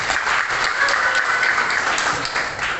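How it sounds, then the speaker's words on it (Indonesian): Schoolchildren in an Indonesian classroom clap together for a classmate, a dense, loud burst of applause that holds steady for a few seconds. "Berikan tepuk tangan untuk Samuel."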